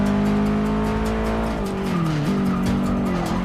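Subaru STI race car in Forza Motorsport 6 with a steady, loud engine drone, its pitch dipping and rising through gear changes as tires squeal and skid, no talking.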